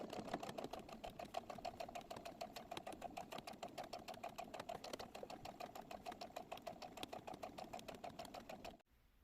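A sewing machine topstitches a bucket hat, running steadily with a fast, even needle rhythm at close range for several seconds before stopping abruptly.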